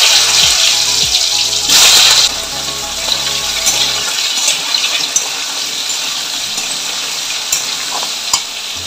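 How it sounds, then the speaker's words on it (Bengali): Green bananas dropped into hot oil with bay leaf and whole cumin, giving a loud, steady sizzle and frying hiss with a sharp burst early on, then continuous crackle throughout, no talk. "কাঁচা কলা গুলো এবার দিয়ে দেব।"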